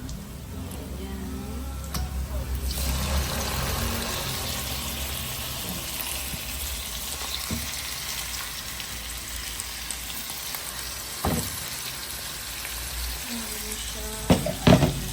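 Chicken hits a pan of browned aromatics and fries with a soft, even sizzle, close by, and a brief voice near the start and end.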